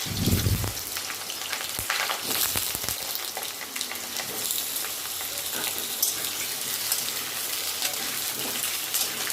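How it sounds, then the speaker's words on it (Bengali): Potatoes drop into hot oil with a loud initial splash and burst of sizzling, then fry with a steady crackling hiss and occasional stirring sounds, close and continuous. "তেলটা গরম হয়ে গেছে, আলুগুলো দিয়ে দিচ্ছি। আলুগুলো ভালো করে ভেজে নেবো একটু।"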